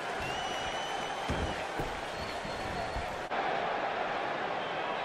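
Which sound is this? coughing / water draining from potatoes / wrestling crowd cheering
wrestling crowd cheering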